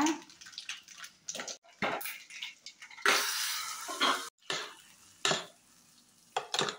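Curry leaves hit hot oil for mulangi chutney, crackling and sizzling in loud uneven bursts with brief pauses, close by and with no talk.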